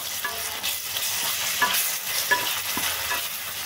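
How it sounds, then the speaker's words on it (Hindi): Ginger garlic paste and onions fry in a kadhai, sizzling steadily and close up while a spoon stirs and scrapes through them, with small clinks along the way. "इसे भी हम प्याज के साथ अच्छे से भून लेंगे"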